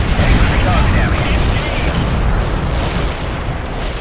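A heavy artillery barrage in the video game World in Conflict, heard as a loud, dense, continuous rumble of booming explosions that slowly eases off toward the end.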